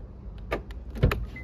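A Renault Arkana locks via keyless access, producing a quick series of faint, close mechanical clicks and a firmer thunk of the door locks engaging against quiet surroundings.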